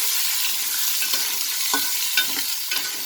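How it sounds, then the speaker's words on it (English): Fresh green peas sauté in a hot pan while cooking pulao. A steady, dense sizzle fills the clip, broken by soft scraping stirs every half second or so. "And now I will saute it"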